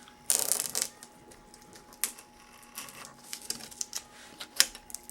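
Foam being cut by hand for a homemade CD platen: a dense scratchy burst of cutting early on, then scattered sharp crackles and ticks of the blade tearing through, close and fairly quiet with no talk.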